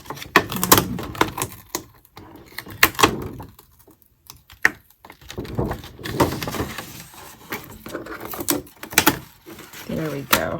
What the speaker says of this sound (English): I'm trying not to rip this paper.